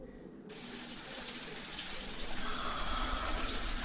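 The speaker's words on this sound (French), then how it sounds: "La douche salée s'enclenche toute seule sur mon pauvre corps meurtri." A salt-water shower switches on by itself. A sudden rush of spraying water starts after a short quiet moment, then keeps a steady, close hiss of falling water with no voices.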